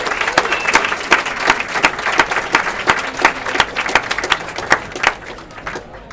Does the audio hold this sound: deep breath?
no